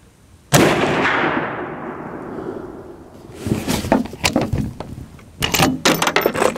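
A .308 rifle fires one loud, sharp report with a long rolling echo, followed a few seconds later by a cluster of clicks and clatter from handling the rifle, then more rattling knocks.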